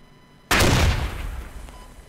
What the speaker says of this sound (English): Another nade!